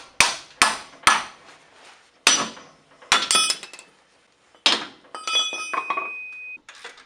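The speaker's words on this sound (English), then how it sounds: "And then you just get a pickle fork and wedge it in between the joint of the strut and the tie rod." A pickle fork is hammered into the joint between the strut and tie rod during front suspension disassembly on a BMW E30. Sharp metallic blows land in irregular bursts, some with a ringing clang, close and loud.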